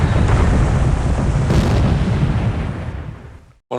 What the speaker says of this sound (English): Torpedoes going off everything.